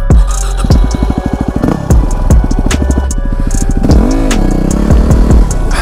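A Yamaha WR250R dirt bike revs hard during wheelie practice at Carnegie SVRA, with loud, close, rapid throttle blips and surging engine pitch rising and falling, plus bursts of wind buffeting the microphone.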